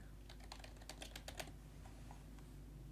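Rapid keystrokes on a computer keyboard while a Microsoft Access form is edited: a quick burst of clacking taps that stops after about a second and a half, leaving a low steady hum.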